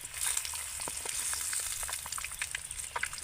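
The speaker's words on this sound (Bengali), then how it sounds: "ডিমগুলোকে আমি জাস্ট এপার ওপার করে এরকম করে ভেজে নিয়েছি একদম কড়া করে কিন্তু ভাজিনি" Eggs for an Afghani egg curry fry in hot oil, turned from side to side without browning hard, making a loud continuous sizzle close by, flecked with small crackles and pops, with no one speaking.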